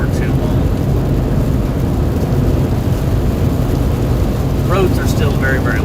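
Heavy rain drums steadily and loudly during a North Texas thunderstorm near Dallas/Fort Worth, heard from inside a storm-chasing vehicle as a continuous dense wash of noise, with a brief faint voice toward the end.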